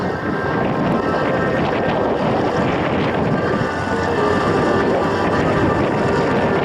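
F-86 Sabre jet making a low fly-by pass at an air show, a loud, steady broadband roar that fills the whole span with no letup and no voices.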